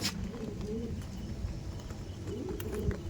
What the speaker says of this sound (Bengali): দেখুন অনেক পায়রা আছে